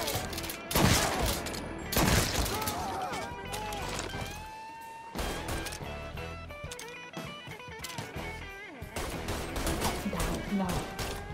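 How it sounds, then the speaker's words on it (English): Shotgun fire in Mafia 3, loud repeated blasts in irregular bursts, joined by other gunfire and game noise, with brief lulls between volleys. "It's shotgun time!"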